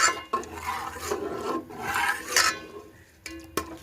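Gobindo Bhog rice is stirred in milk in a pot, giving close scraping, rasping strokes of a spoon against the pot in uneven bursts with short pauses between them.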